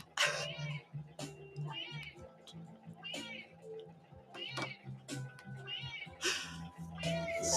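Cat meow sound effects triggered by stream donations play repeatedly, overlapping and chaotic, with a voice talking underneath throughout.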